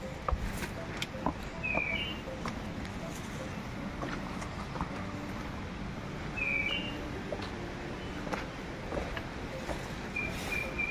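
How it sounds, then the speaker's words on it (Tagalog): Birds chirp and whistle intermittently at a distance over a steady outdoor background hiss, with occasional soft taps and knocks. "Ang ganda ng huni ng ibon"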